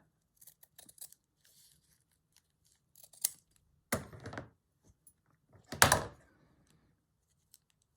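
Scissors snip through an embroidered fabric piece in a quiet room, a few light clicks followed by two louder, close crunching cuts spaced a couple of seconds apart.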